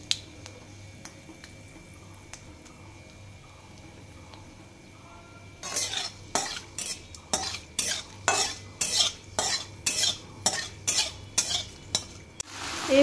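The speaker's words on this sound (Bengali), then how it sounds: "তারপরে এর মধ্যে তেজপাতা আর শুকনো লঙ্কা ফোড়ন দিয়ে দেব" Bay leaves and dried chillies tempering in hot oil for a Bengali dish, starting with a low hum and faint clinks before a run of sharp, rhythmic stirring and spatula scrapes over the spitting oil, close and fairly loud, with no talk.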